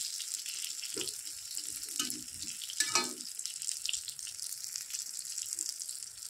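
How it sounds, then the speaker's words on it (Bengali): Eggplant fries in hot oil with a soft, steady hiss and a few louder bubbling splutters near the start, close by and without speech. "দেখো বন্ধুরা, এইদিকে আমি বেগুনটা ভাজি বসিয়ে দিয়েছি"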